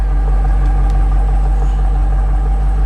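A BMW X5M Competition fitted with a Mode 11 exhaust idles up close, a loud, steady deep rumble without change.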